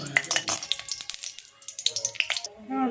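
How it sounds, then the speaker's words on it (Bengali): Bori lentil dumplings fry in hot mustard oil in a kadai, giving a soft, quiet crackle of small pops and bubbling sizzle over a few seconds, with a brief stir near the end. "আমি বড়িগুলো ভেজে নেব।"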